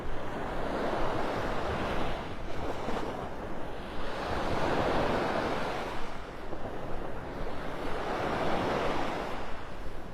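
Steady beach surf rolls in under wind at Delnor-Wiggins in North Naples, Florida, on a cloudy morning. Waves swell and wash in slow, repeating surges about every four seconds, with wind rumble on the microphone and no voices.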